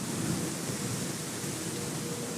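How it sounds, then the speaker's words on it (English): Rain falls around a 1997 Toyota MR2 GT Turbo as a steady, dense broadband hiss with no distinct drops, and no one speaks. "It started to rain now"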